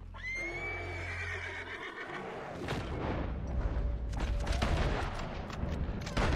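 A horse in Red Dead Redemption 2 lets out a loud, close whinny that fades, followed by heavy game noise of gunfire and booming blasts.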